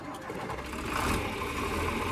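A John Deere 4020 tractor engine runs steadily with a low chugging rumble and a faint rise in revs midway, heard close and continuous for a couple of seconds.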